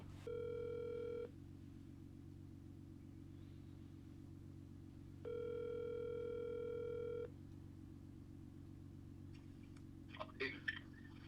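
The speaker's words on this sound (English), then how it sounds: "I can call him right now" Phone ringback tone of an outgoing call, two long steady tones separated by silence over a low constant hum, then a brief clatter near the end.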